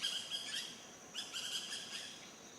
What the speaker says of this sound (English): parrot or parakeet, I suspect.